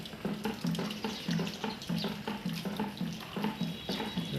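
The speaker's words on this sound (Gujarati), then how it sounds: "2 વાગ્યાનો વરસાદ ચાલુ છે" Steady rain falling at home, having kept on since early morning, with a continuous dense hiss and patter and a faint rhythmic knocking underneath, no voices.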